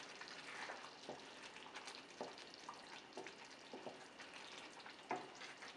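Fresh cilantro being stirred into a simmering Parsi chicken gravy, a quiet, steady bubbling and sizzle with faint scraping stir strokes, low in level throughout.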